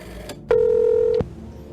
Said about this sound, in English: went to the phone and dialed